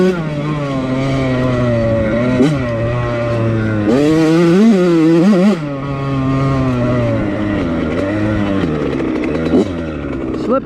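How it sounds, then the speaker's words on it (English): A Yamaha YZ85 dirt bike engine bogs out of turns, its loud two-stroke note climbing, sagging and surging again through several revs on a ride, with a voice briefly over it. "See how it bogs out of the turns? It's like, bog."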